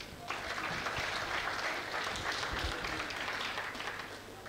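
An audience at a comedy show claps steadily, a dense, even burst of applause lasting throughout, fairly close and unbroken.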